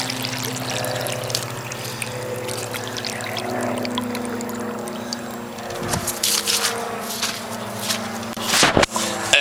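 Water from a sump pump discharge spills and trickles steadily outdoors, a continuous wet pouring with a low hum beneath, building to a louder gush near the end.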